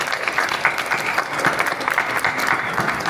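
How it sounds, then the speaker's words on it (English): A small audience gives a round of applause at a podcast recording, steady dense clapping throughout, moderately close. "Can we get a round of applause?"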